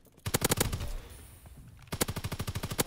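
A Volk rifle fires in Call of Duty WW2 in two rapid automatic bursts, loud and close, with a short gap between them.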